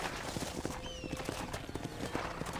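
Horse hooves clip-clop at a steady walking pace on a ranch in the Red Dead Redemption video game, close and clear, with a brief whinny and faint ambient background.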